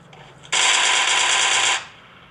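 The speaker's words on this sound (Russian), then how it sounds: "Вот это я стреляю бодро, да?" A single sustained burst of rapid automatic rifle fire from a mobile shooter game, lasting just over a second, loud and close, then cutting off into quiet.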